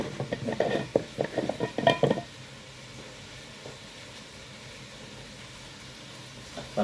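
Chicken and lemongrass stirred in a cooking pot: a couple of seconds of close, rhythmic scraping and clanking of the utensil against the pot, followed by quiet low background hiss.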